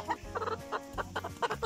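Roosters cluck in short repeated bursts, close and fairly loud, with several calls in quick succession and low gobbling-like tones between them.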